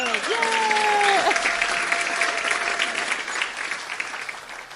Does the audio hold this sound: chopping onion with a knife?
no